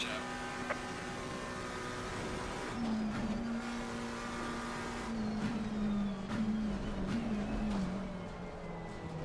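A BMW race car in the sim racing game Assetto Corsa Competizione drives past, its engine a loud sustained drone that rises and falls in pitch over nine seconds, with other cars blending in behind it.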